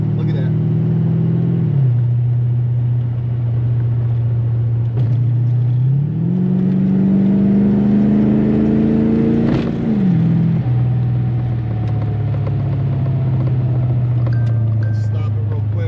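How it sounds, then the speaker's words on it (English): A 1986 Chevy C4 Corvette drives along at steady speed, its engine droning loudly with shifting pitch as it changes gears, over continuous road and tire noise with no breaks. "make sure that there's no other road noise, because that was a little loud"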